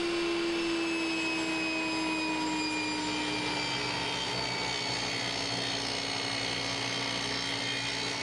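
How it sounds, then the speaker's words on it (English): Table saw ripping wood to make bandsaw wheel blanks in a workshop, a loud steady whine with a sustained motor tone that holds through the whole cut, no voices. "Next, I cut the wheel blanks out on the table saw."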